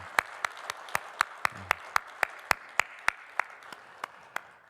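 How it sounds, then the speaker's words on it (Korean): A small church congregation claps in a steady, evenly spaced rhythm during a worship service, each sharp clap distinct, lasting a few seconds in a quiet room. "우리 박수로 환영하고 축복하도록 하겠습니다"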